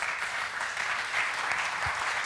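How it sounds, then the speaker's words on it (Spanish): Audience applauding panelists at the close of a discussion event, a steady, fairly soft patter of many hands clapping that holds evenly throughout, slightly distant in the room. "Un aplauso a los panelistas."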